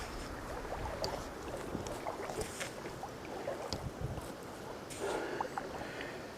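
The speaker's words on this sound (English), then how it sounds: "Wind has picked up." Gusty wind blowing outdoors in the woods, a steady broadband rush with louder swells near the start and end and buffeting against the microphone, with no talking.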